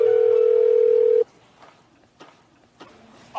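A telephone dial tone hums steadily as a call is placed to an apartment, a loud continuous tone lasting about a second before stopping, followed by a few faint clicks and taps.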